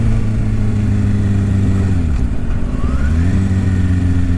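A Kawasaki Ninja 636 sport bike pulls hard at full throttle, its engine note climbing in steady harmonic sweeps with a brief dip around a gear change before rising again, loud and close, with no talk.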